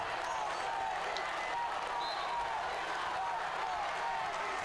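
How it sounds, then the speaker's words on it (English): Crowd at a high school wrestling match, Arlington versus Woburn, roaring steadily with dense cheering and stomping noise throughout, a broad continuous din that never lets up. "The crowd is on its feet. They're stomping."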